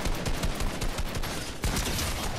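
Rapid gunfire in the video game Fortnite during a ranked match, a loud, close burst of quick repeated shots that continues steadily with one brief pause, and no talking.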